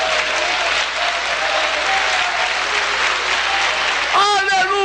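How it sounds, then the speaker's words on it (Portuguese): Church congregation applauding together in steady, dense clapping throughout, with voices mixed in and a brief ringing tone near the end. "Palmas para o Senhor Jesus Cristo"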